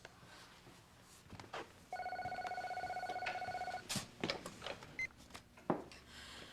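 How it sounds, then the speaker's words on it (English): A telephone bell rings in a TV drama scene, one continuous electronic trill lasting about two seconds at moderate volume, followed by scattered clatter and handling noises. "Better get that while we still have a phone."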